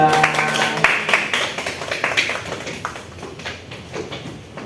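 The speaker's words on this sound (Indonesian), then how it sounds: "Beri tepuk tangan untuk kelompok 2" A small classroom group claps for a few seconds after a chemistry micro-teaching presentation, starting moderately loud and slowly thinning out. Scattered taps and room noise accompany the clapping.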